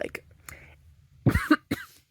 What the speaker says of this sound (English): sorry, coughing.